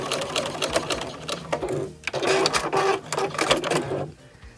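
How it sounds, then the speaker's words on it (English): Sewing machine back stitching at the end of a quilted fabric piece, a rapid mechanical needle chatter in close bursts with a brief pause midway and a trailing stop. "I'm back stitching at the end of the quilted piece,"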